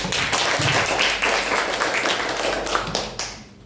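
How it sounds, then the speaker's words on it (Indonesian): Students in a classroom clap their hands together, a dense flurry of many claps at close range that holds steady before tapering off at the end. "luar biasa kalian,"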